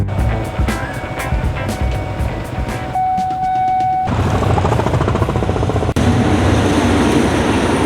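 A train rumbles past close by, a loud, continuous rolling roar with metallic clatter and a brief high whine partway through.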